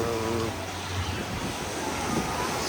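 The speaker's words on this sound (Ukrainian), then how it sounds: "Бачите, трошки море хвилюється, сьогодні є і хвилі" Sea waves washing onto an Odesa beach on a slightly choppy day, a steady, soft broadband wash of surf with some wind noise, fairly faint and distant.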